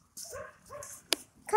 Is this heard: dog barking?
yes